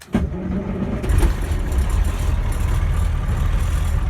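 A Kenworth K-100 truck engine cranks and catches on its first start of the year, a sharp onset followed by a loud, steady rumbling idle that continues close by with no talking.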